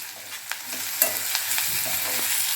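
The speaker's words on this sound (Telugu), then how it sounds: "అల్లం వెల్లుల్లి పేస్ట్ వేసాక ఇలా కలుపుకొని ఒక 1/2 నిమిషం ఇలా కదుపుతూ ఉండాలండి ఉల్లిపాయలు" Onions with ginger garlic paste and curry leaves are stirred in a hot frying pan: a close, steady sizzle broken by repeated light scraping strokes of the spoon.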